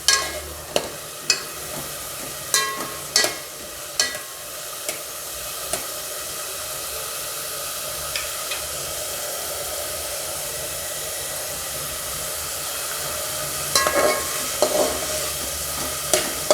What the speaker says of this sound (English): Saute this for 2 minutes.